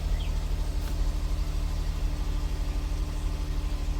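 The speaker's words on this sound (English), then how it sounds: "And now we're going to attempt to start the vehicle" A Jeep Grand Cherokee Laredo idles steadily after starting, a low even engine hum with a faint rhythmic pulse, no talk.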